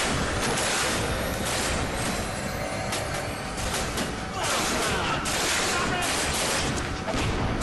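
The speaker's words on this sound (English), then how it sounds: "Oh, missile. That's a lot of missiles." Missiles fire in rapid volleys in the beat-'em-up video game Double Dragon Neon, a dense, loud roar of whooshes and booming blasts that carries on continuously without a break.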